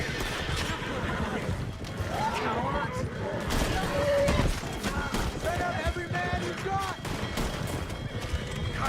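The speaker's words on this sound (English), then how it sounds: "Oh, look at these shots. Let's gun down the lot of them." Gunfire in Red Dead Redemption 2 crackles in quick bursts amid a busy scene of galloping horses, whinnies and hoofbeats, with the shots mixed into the dense action rather than standing alone.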